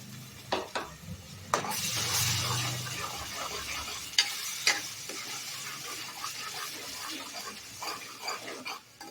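Ground tomato tipped into hot oil already frying ginger-garlic paste and coriander powder for an egg gravy, giving a loud sizzling burst followed by steady frying hiss and scraping stirs, with no talk.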